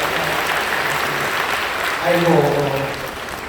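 Church congregation applauding to bless a child after a prayer, a steady wash of clapping from many hands filling the room with a voice speaking over it partway through.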